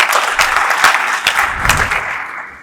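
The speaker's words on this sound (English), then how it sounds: "let's give her a round of applause as she comes" An audience at an IEEE conference applauds as a speaker walks up, a sustained close roar of many hands with a few sharp louder claps standing out, fading toward the end.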